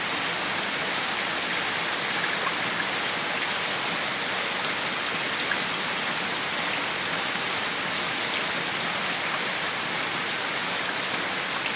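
Steady rain falls evenly throughout, a dense, constant hiss of drops on surfaces with a few faint taps standing out, no voices.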